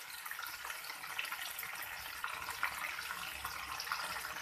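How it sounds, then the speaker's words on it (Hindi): A small amount of water, about two or three tablespoons, is poured into a tomato and spice masala for kofta karahi, giving a soft, continuous splashing and gurgling close by. "अब इसके अंदर डाल देंगे हम तकरीबन 2 या 3 टेबल स्पून के करीब पानी"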